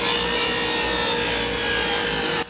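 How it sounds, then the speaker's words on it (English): A table saw ripping solid walnut lumber gives a loud, steady cutting roar that runs unbroken for over two seconds, then drops off sharply near the end. "Here's how my table saw actually sounds while cutting this wood."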